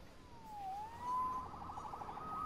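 A police siren in the Spider-Man video game on PS4 wails with a rising and falling tone, then shifts to a steadier pitch, heard clearly at moderate distance against a soft background hum with no talk.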